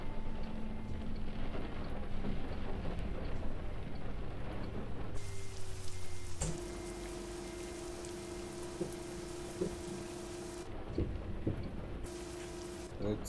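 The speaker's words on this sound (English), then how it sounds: "It's still raining." Steady rain falling during a bus drive in Euro Truck Simulator 2, a continuous hiss with occasional thunder-like rumbles and low engine hum, moderately loud throughout.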